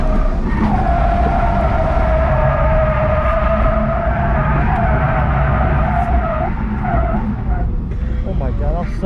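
A BMW E46 drifts on a track with sustained tire squeal and skidding under a straining engine, the screech holding for most of the run before dropping off near the end, with a voice heard in the background.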